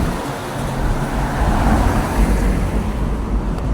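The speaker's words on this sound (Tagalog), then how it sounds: "So, ang daming sasakyan." Many cars stream across a bridge in a steady, dense roar of road traffic, tires and engines blending into a continuous wash with no single vehicle standing out.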